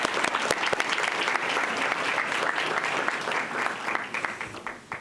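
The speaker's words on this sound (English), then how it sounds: "A round of applause for Kinley." A room at a school board meeting breaks into applause for a student. Dense clapping with some sharp individual claps holds at an even level throughout and thins out near the end.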